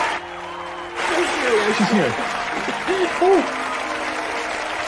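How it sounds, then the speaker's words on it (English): A television talk show studio audience bursts into sustained applause that swells and holds steady, with a host's voice speaking over the clapping. "Keep that applause going."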